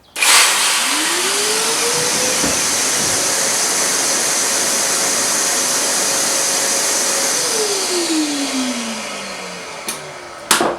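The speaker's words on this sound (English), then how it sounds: "the Shop-Vac will automatically start up when I power up the tool" A Shop-Vac built into a woodworking workstation spins up with a rising whine, runs at a steady loud roar for several seconds, then winds down as it switches off.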